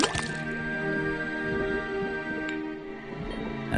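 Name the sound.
faucet dripping liquid into cauldron, Detective Grimoire video game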